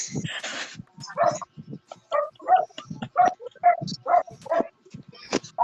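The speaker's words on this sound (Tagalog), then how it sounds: "yung ingay ng aso dyan" A dog barks and yips in a rapid irregular series of short sharp calls, fairly close and alternating with quieter gaps, with a faint whine at the start.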